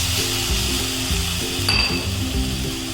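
Grated fresh coconut and jaggery fry in hot ghee with a steady, bright sizzle. A brief metallic clink sounds partway through, and low rhythmic music plays underneath.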